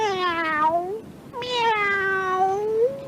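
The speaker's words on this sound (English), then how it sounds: "Close by, a cat meowed." A cat meows twice as a sound effect in a spooky night story, two long close wavering cries, the second drawn out longer than the first.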